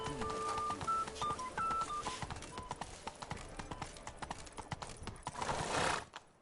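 Roach the horse gallops in The Witcher game, a quick steady clip-clop of hooves with occasional snorts, mixed under music tones and game sounds, loud and close throughout.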